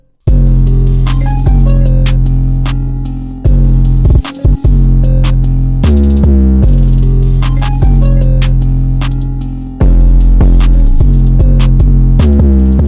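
A hardcore-style drum beat with a halftime section, played loud with punchy drum hits over heavy sustained bass. The beat drops out briefly partway through, then comes back in.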